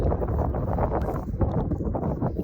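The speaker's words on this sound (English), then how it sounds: "The wind's just picked up." Wind buffets the microphone on the Thames riverbank during mudlarking, a loud continuous low rumble with gusting surges throughout and no other clear sounds.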